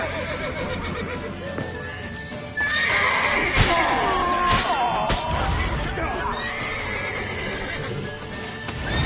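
Horse neighing and whinnying with galloping hooves in The Witcher 3 video game, loud and close, with shouted voices and clashing game action mixed in over the whole stretch.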